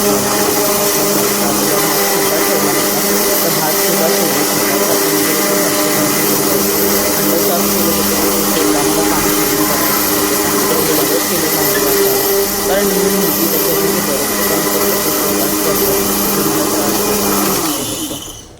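A kitchen mixer grinder whirs with a loud, steady, high-pitched drone that runs without a break, then cuts off abruptly at the very end.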